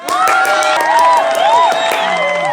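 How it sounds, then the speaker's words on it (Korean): A church congregation claps and cheers together for a birthday during a Sunday worship service, a dense, steady roar of many hands with bright whoops and children's shouts riding over it, loud and close throughout. "다 같이 박수로 생일을 축하해 드렸으면 좋겠습니다"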